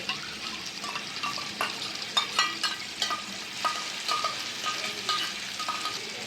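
Chicken frying with fried yogurt in a pan for a Bengali curry, a steady close sizzle broken by scraping stirs and light clinks of a spoon against the pan.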